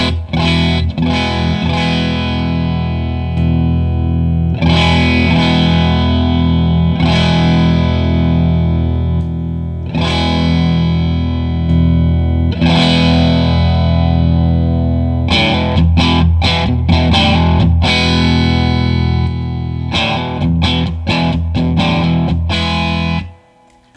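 An electric guitar plays through an Earthquaker Special Cranker overdrive pedal on its silicon setting, with crunchy, distorted chords struck and let ring, then a quicker run of choppy strums before it cuts off.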